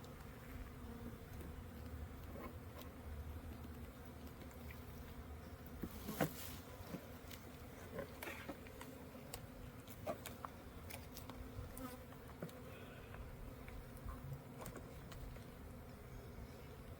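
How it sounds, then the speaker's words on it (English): Honey bees buzz steadily around a backyard apiary hive, a continuous close drone of many wings with a few louder individual bees passing near, no talking. "I just want to get these bees"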